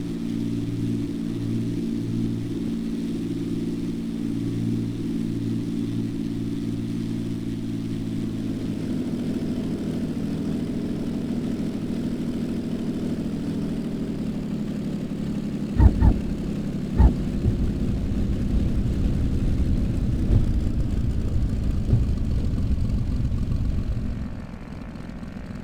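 A SIAI-Marchetti SF-260 propeller plane lands in the X-Plane 11 flight simulator, its steady engine drone rumbling on, broken by two sharp thumps of the wheels touching down before the engine noise fades away.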